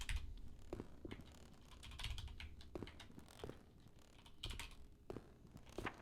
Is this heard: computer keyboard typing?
yes